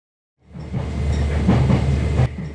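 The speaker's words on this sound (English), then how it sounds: "we began with a train ride to cross the Ria de Mogro" A train crossing the Ria de Mogro in northern Spain rumbles steadily from close by after a brief silence, with a low droning hum and a clattering roll that holds until an abrupt cut near the end.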